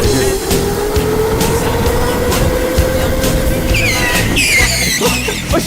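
A race car in a racing video game spins out, its engine drone rising in pitch before a burst of squealing tire skids, loud and close.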